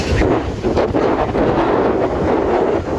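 Strong wind during a storm buffets the microphone in a loud, constant roar with gusty low rumbling and no voices.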